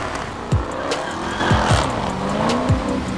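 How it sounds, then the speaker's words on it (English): Dodge Hellcat in FIFA 22 revving hard and doing a burnout, a loud sustained engine roar with rising and falling pitch, squealing tires and sharp gear-change blips. "Just listen to the motor of that Hellcat."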